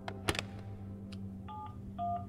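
A payphone in the video game The Final Station gives a quick run of electronic dial-tone beeps, with a click first and two short paired tones near the end, clear and close with no talk.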